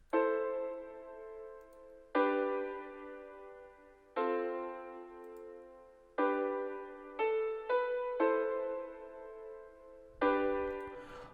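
Basic piano chords from the Nexus plugin, in an Afro tribal house style, ring out as sustained mid-range chords, struck about every two seconds, with a few quicker stabs near the end and clean decays.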